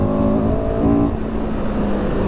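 A CFMOTO CLX 700 motorcycle engine pulls hard and revs up in a loud, continuous roar heard close by, the tone rising and falling slightly across a brief burst of acceleration.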